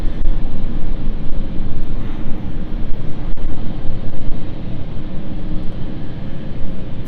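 An airliner bound for Milan moves at London City Airport, giving a loud, rumbling, fluctuating jet engine noise that holds throughout, with no voices.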